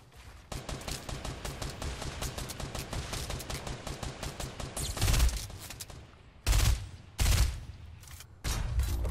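Fortnite Battle Royale combat: a long run of rapid, evenly spaced weapon shots, followed by several heavy, loud rocket blasts that come in separate bursts.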